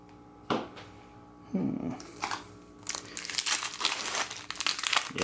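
Crinkly foil wrappers of Time Spiral Remastered Magic: The Gathering booster packs being torn open and crumpled, with sharp rustling bursts that grow busier and more continuous toward the end, close and fairly loud.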